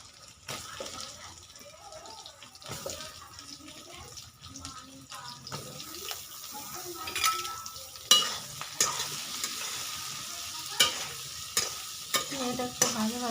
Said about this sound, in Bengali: ভেজে নেব ঝিঙে।